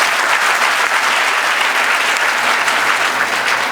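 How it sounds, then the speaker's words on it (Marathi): Loud, continuous applause fills a hall at a college prize-giving ceremony as a teacher is honoured with a best teacher award, the crowd's clapping dense and even throughout. "त्यांच्यासाठी जोरदार टाळ्या करा"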